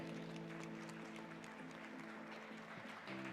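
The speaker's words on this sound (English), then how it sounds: "I want you to give a huge round of applause to the Chief Marketing Officer of Pragmatic Play" Conference audience giving a round of applause for a keynote speaker at an iGaming event in Valletta, a dense, steady wash of clapping heard faintly with a hum beneath.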